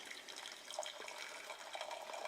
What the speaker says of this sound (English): I did put some water in it to see how it pours when full